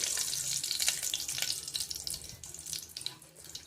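Rice cooking in a pot for mutton soup with ghee and groundnut oil, a continuous soft bubbling, hissing simmer close by with no voices.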